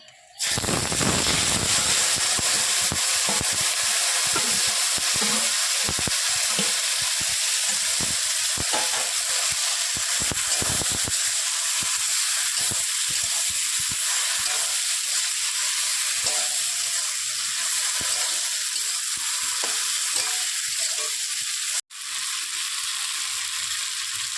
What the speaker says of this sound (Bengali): এবার এটা দিয়ে ভালো করে কষে নেব।